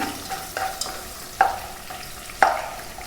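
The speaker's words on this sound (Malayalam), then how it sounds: "അരമുറി ഉള്ളി നീളത്തിൽ കട്ട് ചെയ്തിട്ട് ഇട്ട് കൊടുക്കുന്നുണ്ട് ഇത് കൂടുതൽ വഴറ്റിയെടുക്കുകയൊന്നും ചെയ്യണ്ട" Sliced onion frying in a pan for ghee rice, a constant close sizzle punctuated by a few sharp scraping stir strokes, with no talking.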